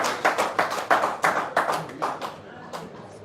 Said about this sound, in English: I think you should clap for that